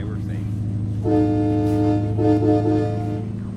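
A train horn sounds in American Truck Simulator in Nebraska, passing under a bridge: loud, sustained chord-like blasts start after a moment of low engine rumble, then swell again before fading.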